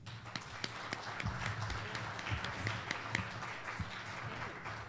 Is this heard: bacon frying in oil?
no